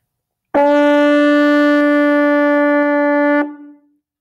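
A single sustained mellophone note, A, held steadily for about three seconds, clear and mellow, then released with a short fade.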